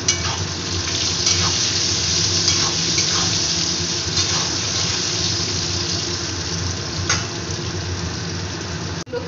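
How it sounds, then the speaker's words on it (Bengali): Potato pieces fry in hot oil with turmeric and salt in a pan, a steady loud hiss and sizzle that holds evenly for several seconds before a brief clatter at the end. "আলুগুলোকে ভেজে নেব।"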